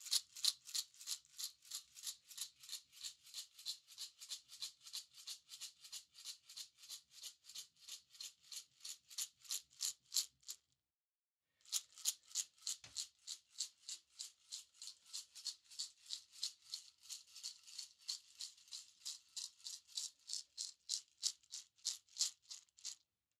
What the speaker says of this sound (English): Second is a pepper grinder shaken behind and above the head,